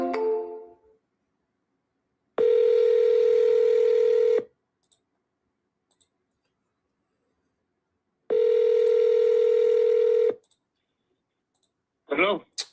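Telephone line sounds from a live sales call: two long steady ringback or dial tones, each about two seconds, separated by silence, with a faint voice fragment before and a brief beep at the end.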